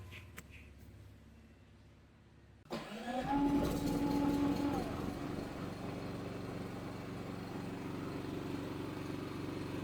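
A Philking PK4200ie2a inverter generator starts after a quiet moment with a sudden pull and catch, then settles into a steady, even running hum that carries on to the end.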